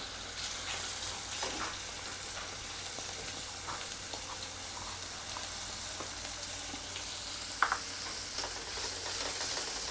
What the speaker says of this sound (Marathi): कांदा थोडासा ब्राऊन रंगावर येईपर्यंत आपल्याला परतून घ्यायचं आहे